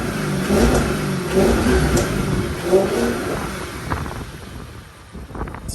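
An Audi S5 with a naturally aspirated 4.2-liter engine and stock intake revs and pulls away, its moderate engine note rising and falling under wind buffeting before fading out.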